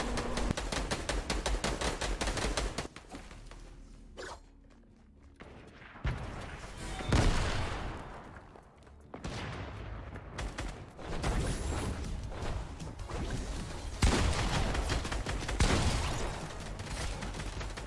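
Shotgun blasts and other gunfire from a competitive Fortnite Creative match ring out in repeated sharp bursts, some loud and close, others fainter, with brief quieter gaps between exchanges.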